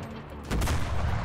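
Tank shells fired at infantry in War Thunder, a loud burst of gunfire breaking in about halfway through and sustained over a rumbling battlefield.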